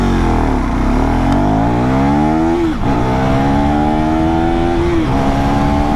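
A KTM Duke or Triumph Speed motorcycle accelerates hard through the gears, its loud engine note climbing steeply, dropping at each shift, then climbing again, close and continuous.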